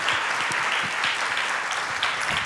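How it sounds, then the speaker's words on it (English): Audience at a leadership talk giving a round of applause, a full, steady burst of many hands clapping at close range, sustained evenly for a couple of seconds without speech. "Give her a round of applause."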